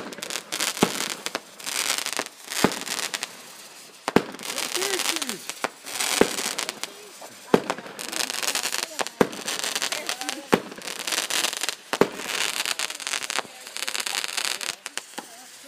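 A New Year's fireworks show bursts nearby in repeated sharp bangs with crackling and whistling between them, loud and irregular, while people talk over it.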